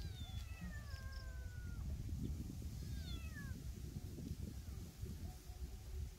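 A cat, apparently abandoned, gives several high, drawn-out meows in close succession over a low, noisy background.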